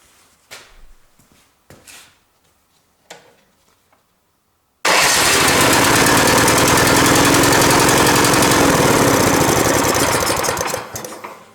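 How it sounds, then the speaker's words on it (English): A small snow blower engine cranks with a few brief pulls, then fires and runs loudly with a rapid, steady chug for several seconds before it tapers off near the end. "now we can test again that how this my engine starts"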